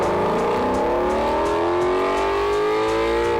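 A naturally aspirated V8 in a 2021 Chevrolet C8 Corvette revs hard and loud, its pitch climbing steadily throughout with no voices over it.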